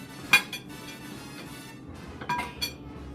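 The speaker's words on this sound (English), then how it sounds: "Just going to stir it around." Wooden spoon stirring tomato gravy in a pot, a few light clinks and knocks against the metal over a low background hum, close and brief.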